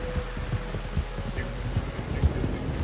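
Steady rain hisses across the scene in the Red Dead Online video game, a dense even wash with low rumbling and scattered soft thuds beneath it.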